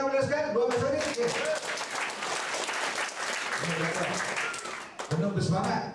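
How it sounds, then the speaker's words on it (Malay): Sustained audience applause and clapping fills a packed evening hall at a leaders' gathering, dense and steady throughout with a brief dip near the end before swelling again. "Bagi tepuk tangan boleh sekali, luar biasa ni sikit."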